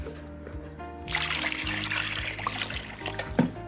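Vinegar poured over oxtails: a soft trickle of liquid that begins a second in and keeps running under a low steady hum, close and moderately loud.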